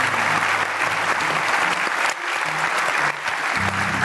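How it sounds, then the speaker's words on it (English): Audience applause at a live podcast recording at a security conference, steady and dense clapping from a large crowd that fills the whole stretch without a break. "How about a round of applause for both Kevin and Stu?"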